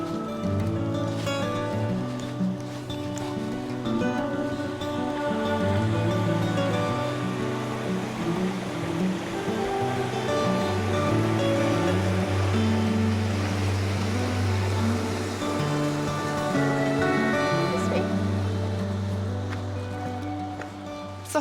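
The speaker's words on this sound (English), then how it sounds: "I hope you can hear me over the river" A fast-flowing Highland river on the Affric Kintail Way in Scotland rushes steadily nearby, a loud continuous broadband roar of water filling the whole stretch without a break.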